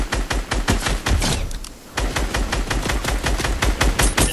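Rapid automatic gunfire in a Fortnite squad battle, dense bursts of shots rattling almost continuously, with a short lull in the middle before the firing resumes loud and close.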